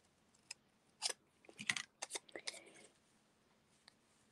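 Scissors cutting material for a faux cloisonne craft piece, heard as a handful of soft, close snips and crunches clustered together in an otherwise quiet room.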